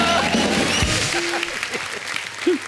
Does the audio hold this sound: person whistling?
no